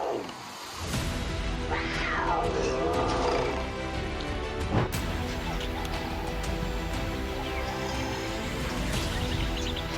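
A frightened house cat in a backyard, confronted by a coyote, lets out a couple of seconds of wavering yowls, close and fairly loud, over a steady musical background.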